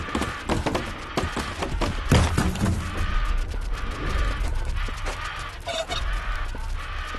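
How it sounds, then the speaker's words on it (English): Chicken clucking in the Roblox game 99 Nights in the Forest, repeated cackles and squawks over a dense, busy game soundscape with music and clattering effects, steady and fairly loud throughout. "Oh, come here, you stupid chicken."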